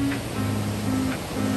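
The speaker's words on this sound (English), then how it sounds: "Waves crash with the roar." Ocean waves roll in at Ocean Beach, San Francisco, making a continuous, moderately loud wash of surf with a low, steady hum beneath, and no talking.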